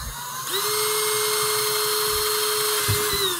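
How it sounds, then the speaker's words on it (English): A power drill whines up suddenly and holds a steady high pitch for about three seconds while drilling a hole in plastic, close and loud, then spins down. "I'm just gonna drill my hole"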